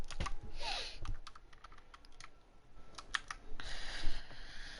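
Rapid, close clacking on a mechanical gaming keyboard with Cherry MX Blue switches, heard as bursts of crisp key clicks with uneven rhythm and short lulls, during a PC game and with no voices.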